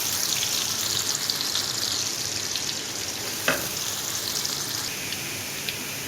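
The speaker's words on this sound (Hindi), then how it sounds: "अब इसके अंदर हम ऐड करेंगे प्याज जो हम हल्के से करेंगे ब्राउन।" Steady, loud sizzling of onions frying in hot oil in a wok, a dense crackling hiss that continues throughout with a small clatter near the middle.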